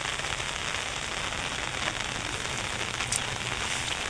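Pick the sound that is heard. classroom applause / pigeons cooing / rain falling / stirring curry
rain falling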